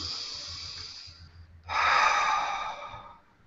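A person takes a single deep, audible breath in through the nose, a long rushing inhale rising after a short pause and trailing off slowly, alone with no talking.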